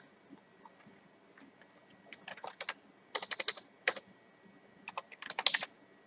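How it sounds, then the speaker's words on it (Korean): Light tapping on a smartphone screen keyboard, a series of quick clicks in short bursts with pauses between them, faint and close, deleting subtitle text, no talking. "여기 백스페이스를 눌러서 쭉쭉쭉 지워주세요."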